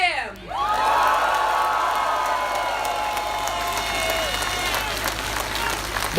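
Loud, continuous applause and cheering from a large crowd at an outdoor political rally in Bobruisk, with whoops and shouts rising over dense clapping that holds steady for several seconds.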